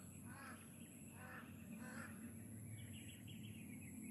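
Several crows caw in a short series of harsh calls, distant and faint over a steady background hiss.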